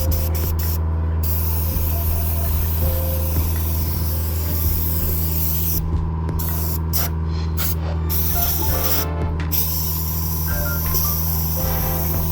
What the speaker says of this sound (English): We're using a brake cleaner, so just gonna try to get this thing clean as possible.